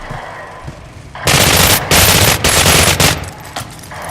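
Enemy machine-gun fire in the video game Cryostasis breaks out suddenly after a quiet moment, loud sustained bursts with brief pauses, then tapers off into scattered shots.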